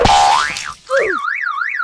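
Cartoonish boing as jello dropped onto a Lego city bounces off in a video game: a springy wobbling tone, then a short drop, then a repeated rising-and-falling bounce sound, loud and alone.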